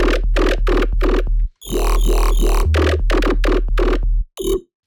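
A loud, gritty jump-up drum and bass synth bass plays in short choppy stabs over a deep sub rumble, with a wobbling sweep in the middle and brief gaps of silence.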